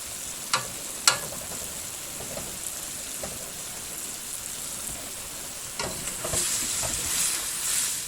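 A chuck wagon mixture sizzles quietly in a frying pan, with a couple of sharp utensil clicks early on and a soft, even frying hiss that swells slightly near the end.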